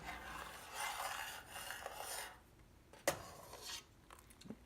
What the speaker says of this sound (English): You want to just stir that in and kind of heat it up.